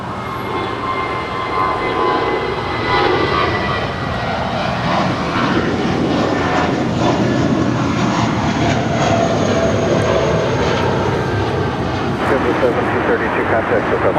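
A JetBlue Airbus A320 departs LAX with a loud, sustained jet engine roar that holds steady throughout, while commentators talk over it.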